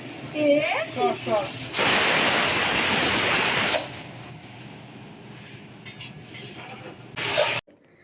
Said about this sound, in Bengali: এদিকে দেখো চিচিঙ্গা দিয়ে দিয়েছি কড়াইতে